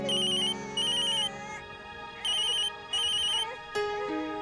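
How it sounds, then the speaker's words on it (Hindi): Mobile phone ringtone from a mother's incoming call, a bright repeating melodic ring in regular bursts, loud and close with no talking over it. "माँ का फोन आ रहा है,"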